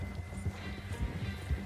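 Horse hooves clip-clop at a steady walking pace in Red Dead Redemption 2, close and moderately loud over a low rumbling game backdrop, with no talking.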